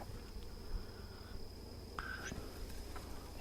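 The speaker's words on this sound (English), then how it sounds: "Lots of bees on the inner cover. Lots of bees, period." Honey bees swarming over the inner cover of an opened hive, giving a faint, steady buzzing drone with a few brief louder passes close by.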